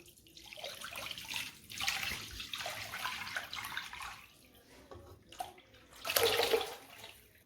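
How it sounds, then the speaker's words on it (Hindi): Two litres of milk are poured into a kadhai holding a little water while mawa (khoya) is being made, giving a splashing, gurgling pour that swells twice, loudest near the end. "मैंने यहाँ पर 2 लीटर दूध लिया है, अब मैं इस कढ़ाई में डाल दूंगी।"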